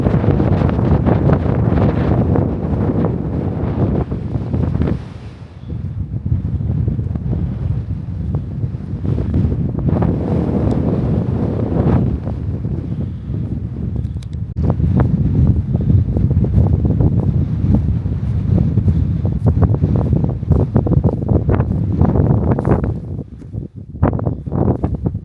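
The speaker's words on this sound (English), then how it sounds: "So it is very windy." Strong, steady wind of about 25 to 30 on a cliff edge buffets the microphone in a loud, continuous roar with gusty surges and brief lulls, no voices present.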